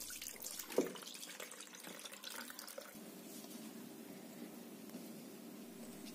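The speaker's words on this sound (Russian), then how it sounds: "Поэтому не выливаю, а сливаю его в миску." Brine from fermented red salad mustard greens is drained into a bowl, giving a soft, steady trickle and splash at close range that continues quietly throughout.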